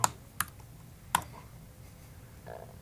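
Someone types on a computer keyboard in a few sparse, sharp key clicks spaced apart, quiet and close, with no talk.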